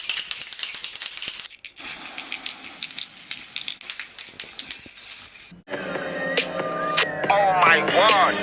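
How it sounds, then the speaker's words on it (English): A can of Dr. Oetker food spray hissing onto the tops of vegan burger buns, two long, close hissing bursts separated by a short gap, followed by lighter clicks and rattles. "the Dr. Oetker spray, I'm actually gonna spray both tops together"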